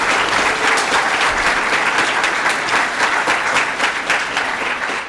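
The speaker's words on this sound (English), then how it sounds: "Let's give him one big round of applause." An audience gives loud, sustained applause for Pro Football Hall of Fame class of 2020 inductee Steve Hutchinson, with a steady wash of clapping from many hands in a hall.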